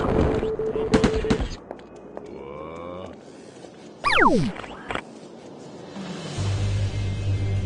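Gunfire and chaotic effects in the video game Destroy All Humans 2: a rapid burst of shots, then sweeping sci-fi zaps, a cow-like moo and a steady hum, at moderate loudness.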